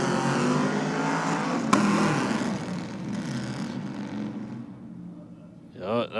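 Race car engine revving hard with wheelspin, a dense sustained roar filling the clip that eases toward the end before a short rising rev burst; a sharp click sounds early on and voices talk over it.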